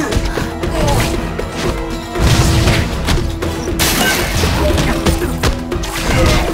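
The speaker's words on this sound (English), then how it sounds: "There's the explosion!" A loud explosion in the Spider-Man: Friend or Foe video game, heavy booming crashes and thuds layered over busy game sound effects and music, sustained for several seconds.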